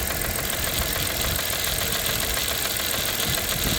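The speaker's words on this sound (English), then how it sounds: "It's a stuck lifter." A 1997 Dodge Caravan LE engine idles steadily up close, with a fast, even ticking from a stuck lifter running through the continuous mechanical hum.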